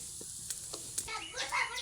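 Peanut pakoras deep-fry in oil, a quiet bubbling sizzle that swells toward the end, with a few brief ticks and clinks from utensils.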